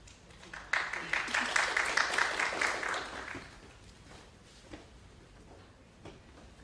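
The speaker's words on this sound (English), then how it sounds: "A round of applause for him, please." Applause from the audience at a biomedical science conference at Tzu Chi University, a burst of clapping for about two and a half seconds that then fades into faint room noise and scattered sounds.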